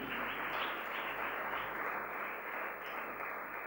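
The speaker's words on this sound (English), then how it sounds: "A round of applause for Dr." A graduation ceremony audience applauds a chief guest, producing a steady, dense wash of clapping that holds evenly for the full stretch without a break.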